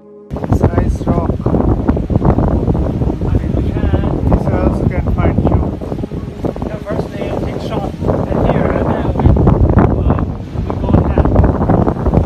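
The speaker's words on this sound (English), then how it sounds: "too much cold and too much wind today" Strong cold wind buffets the microphone outdoors on a rocky shoreline, a loud continuous roar with gusts, while someone talks over it.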